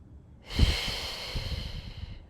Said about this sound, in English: breathe into the front of your left hip